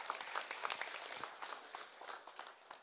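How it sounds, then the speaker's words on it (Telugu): A book launch audience applauds an honoured guest coming onto the stage, a quiet, steady patter of many hands with scattered sharper claps running throughout. "ఒకసారి ఆయన వేదిక మీద వచ్చినందుకు అందరూ చప్పట్లు కొట్టాలని చెప్పారు"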